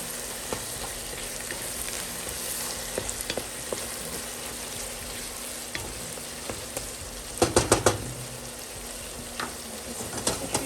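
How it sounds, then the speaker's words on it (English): Pork chop mixture with onion salt frying in a pan and being stirred, a steady sizzle with intermittent scraping and clattering of the utensil against the pan, a louder cluster of knocks partway through. "We'll stir all this up."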